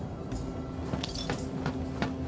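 Broken glass shards clink lightly in the VR video game Vox Machinae, giving a few faint, scattered tinkling ticks over a steady background hum.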